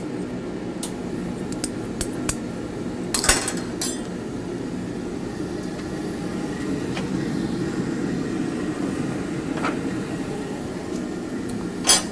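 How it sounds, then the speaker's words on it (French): Hot glass being cut and handled at a glassblowing furnace: a few sharp metallic clinks and snips stand out against a steady low roar of the furnace, with one louder cluster of hits near the start and scattered ticks after. "le fait de couper le verre et de reprendre le morceau à chaud"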